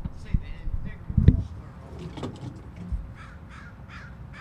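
Crow caws play from a bird song book sample, a few rough calls spaced irregularly, fairly faint amid room noise and soft background talk.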